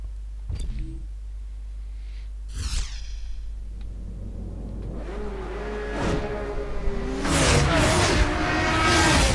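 A Porsche, the lightest model in Need for Speed: Hot Pursuit and modeled on the 1950s 550 Spider, revs and accelerates with rising engine whine and whooshes, growing louder and more sustained toward the end after a low steady hum.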